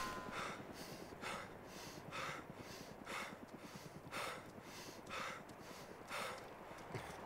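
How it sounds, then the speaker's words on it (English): Characters breathing in the DayZ mod of a squad warfare game: rhythmic, heavy in-and-out breaths repeat about once per second over a steady gritty background, with no talk. "They can hear our guys breathing."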